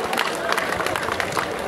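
Applause and cheering from a boxing-night crowd as an African boxing legend is introduced, dense and steady throughout, with crowd noise filling the space.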